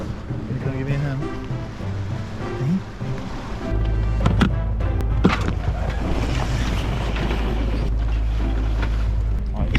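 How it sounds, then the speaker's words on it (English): Sail coming down aboard a sailboat on open water during a lobster-fishing trip, heard as rustling, flapping canvas and clattering rigging over a loud steady wind and engine rumble that swells midway, with brief voices. "Right, the sail has dropped."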